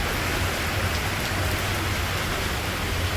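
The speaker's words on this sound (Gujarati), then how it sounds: "તો વરસાદ ચાલુ થઈ ગયો." Rain falling in the Gir area near Junagadh, Gujarat, a dense, even hiss of drops that is loud and continuous through the whole stretch, with a low steady rumble underneath and no voices.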